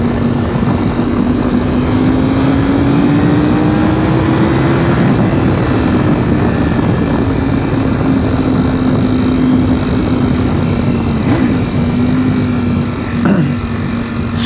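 Ducati V4 SP motorcycle engine pulling under a light twist of the throttle, a continuous droning tone that climbs slowly in pitch over a wash of wind and road noise, loud and close, with no voices.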